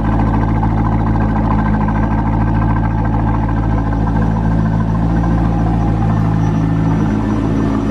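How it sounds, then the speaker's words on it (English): A torch red 1998 Chevrolet Corvette with an automatic transmission idles nearby, its exhaust giving a loud, steady, deep rumble with no voices over it. "Real nice sounding exhaust."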